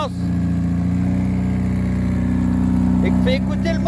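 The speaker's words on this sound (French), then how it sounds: "Fais écouter le moteur. Un petit coup de gaz." A VW Golf GTI MK2 with an 8-valve engine runs steadily at close range with a deep, constant drone, with a faint rise in pitch near the end; voices talk faintly over it.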